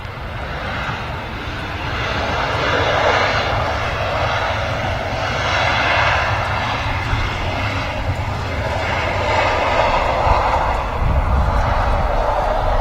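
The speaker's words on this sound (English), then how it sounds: "Iceland Air 737 MAX with the new livery and" An Icelandair Boeing 737 MAX in new livery rolls down the runway after landing at Manchester Airport, a steady, loud engine roar and rumble heard from a distance, with no talk.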